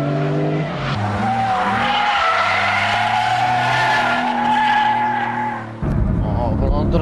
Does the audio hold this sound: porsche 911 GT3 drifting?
yes